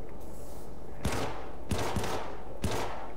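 Three separate pistol shots in the video game Syndicate, each a sharp crack with a short decaying tail, spaced about a second apart over quiet background.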